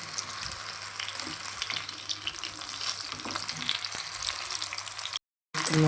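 Green chillies fry in hot oil for peanut chutney with a soft, continuous crackling sizzle and a few faint stirring knocks, then the sound cuts out briefly near the end.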